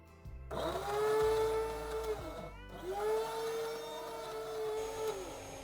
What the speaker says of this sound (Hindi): अब हम इसे मिक्सी में डाल के पीस लेते हैं।